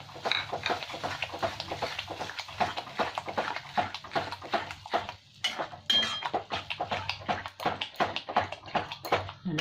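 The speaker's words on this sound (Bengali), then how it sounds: "এবার আমি দই দিয়ে দিলাম একটু গ্যাসটা কমিয়ে দিচ্ছি একদম সাথে সমানে নাড়তে থাকবো" Masala with yogurt being stirred in a pan over low gas, with a steady run of rapid spatula scrapes and clinks against the metal that stays close and busy throughout, with no voices.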